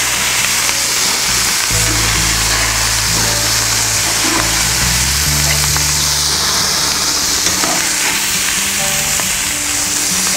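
Ribeye steaks and pork chops sizzle loudly and steadily on a hot grill, a continuous close crackling hiss with low rumbling hum underneath, no voices.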